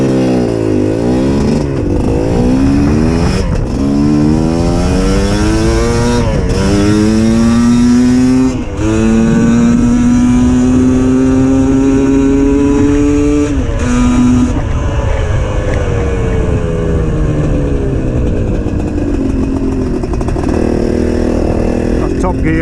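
A GPX TSE 250R motorcycle revs up through the gears and holds top gear, its engine note rising in long sweeps between shifts, loud and close throughout, with a rider's voice talking over it at points.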